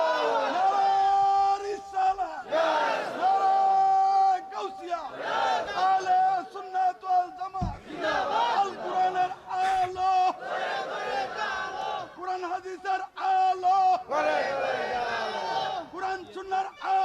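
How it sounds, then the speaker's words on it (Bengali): A large crowd at an outdoor religious gathering shouting takbir in unison, loud repeated chanted bursts separated by brief pauses, with a voice leading over the crowd. "একটা তাকবীর হবে,"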